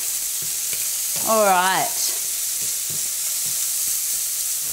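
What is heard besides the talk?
bacon sizzling in a frying pan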